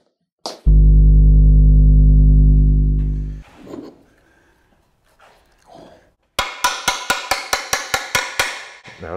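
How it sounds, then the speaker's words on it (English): A hammer strikes a Scame GRP industrial socket in about a dozen sharp, evenly spaced blows near the end, after a long loud hum and some faint handling noise. "it can withstand the hammer blow"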